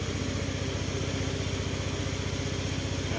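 A Honda Beat scooter engine, just fixed with a new spark plug, idles steadily and evenly for the whole stretch with a continuous low putter, close by and with no talking.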